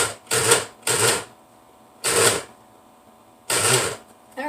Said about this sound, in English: I'm going to pulse that up a little bit more. I don't want a paste. I still want it a little chunky. So, but I want to grind up the chickpeas